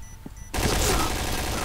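In the Project Blackout shooter, a bomb detonates after a short quiet stretch, bursting into a sudden loud blast that keeps roaring with rumbling debris to the end.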